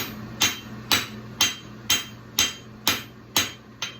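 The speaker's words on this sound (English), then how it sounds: "I'm hitting the corners of the bar stock that are closest to me" Eight evenly spaced hammer blows ring out on steel bar stock being forged into a rolled-toe horseshoe, loud and close, each strike decaying briefly before the next in a steady rhythm.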